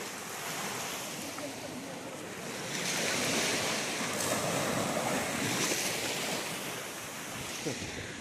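Ocean surf rolls steadily onto Nivti Beach under a loud, constant rush of wind buffeting the microphone.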